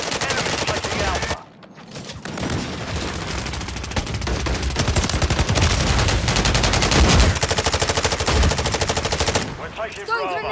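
A DG-58 LSW light machine gun fires in a video game match, loud rapid sustained bursts packed tightly together, broken by a brief pause early on and continuing almost without stop to the end.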